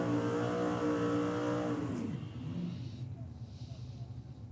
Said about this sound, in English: I love the sound of like injected cars with the injectors up through the bonnet.